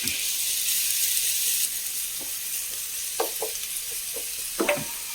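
Thinly sliced onions frying in coconut oil give a steady loud sizzle and hiss, with a few stirring scrapes and clinks. No one speaks.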